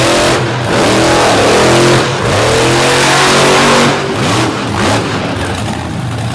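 A new Chevrolet truck engine revs hard on a Brooksville mud track, run on bald tires, with loud rising and falling sweeps repeating through the clip and brief dips between pulls.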